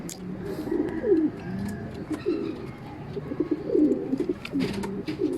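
Pigeons in a loft coo repeatedly nearby, soft throaty warbling calls that overlap, with scattered faint chirps and light rustling in the background.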